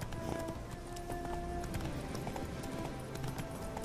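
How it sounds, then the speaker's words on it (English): Horse hooves clip-clop in The Witcher 3, a steady run of hoof beats over game background sound, fairly close, with no talking. "my horse is called Roach and that guy is Roach"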